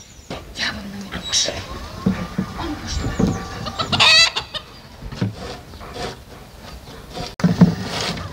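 Chickens clucking on a farm homestead, several birds calling in short bursts close by, with a rooster-like cry and a voice talking over them at times.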